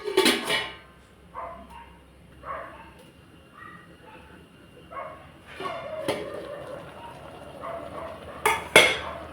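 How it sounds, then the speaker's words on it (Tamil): Tomatoes are stirred in a cooking pan as thokku is prepared, giving sparse clinks and scrapes of a spoon against the pan with quiet gaps between them and faint voices in the background. "லைட்டாக ஒரு கிளறி விட்டுக்கோங்க"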